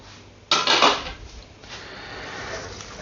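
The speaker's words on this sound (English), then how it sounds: "Let's mix that together first to start getting that oil and that yogurt into the flour and the dry ingredients." Oil and yogurt being stirred into flour in a bowl for dairy-free naan dough, a sudden close scrape and clatter of utensil against the bowl followed by softer continuous mixing noise.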